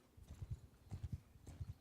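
Hooves of a horse in the Mount & Blade Bannerlord game clip-clop in steady quick groups of beats, moderately close and clear, with a faint ambient bed underneath.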